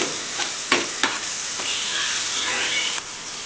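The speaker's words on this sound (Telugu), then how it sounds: "చూడండి మీకు కనిపిస్తుంది కదా, ఇలా వేయించుకోవాలి ఫ్రెండ్స్." Tomatoes fry in hot oil with chilli powder, giving a steady close sizzle broken by several sharp scrapes and knocks as a spoon stirs the pan; no one speaks.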